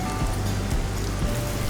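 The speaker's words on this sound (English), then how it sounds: "Look at this rain." Steady heavy rain falling on a golf course, a dense continuous hiss with low rumbling undertones, unbroken throughout.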